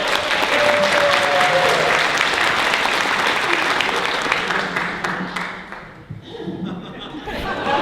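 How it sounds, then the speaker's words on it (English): A crowd at a Dallas Newlywed Game event at Southfork applauds loudly and steadily, mixed with some chuckles and chatter, before the clapping thins out and dies away near the end. "So, show of applause."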